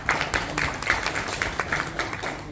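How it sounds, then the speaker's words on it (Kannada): An audience at a film press meet claps for a couple of seconds, a dense, even patter of many hands at moderate distance. "ಜೋರ ಬಿಡಿರಪ್ಪ ಚಪ್ಪಾಳೆ."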